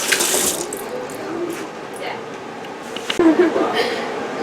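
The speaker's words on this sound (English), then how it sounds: "I'm going to wash my hands up" Tap water runs steadily into a sink as hands are rinsed during the cleaning of blue crabs, a continuous close hiss with a few brief splashes and clatters near the end.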